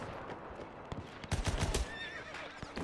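A horse in the WW1 video game Between Empires whinnies loudly in a short burst, with hoof clip-clops and battle noise faintly underneath.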